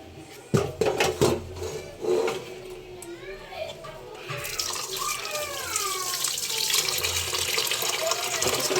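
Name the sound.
water over rice and lentils for soaking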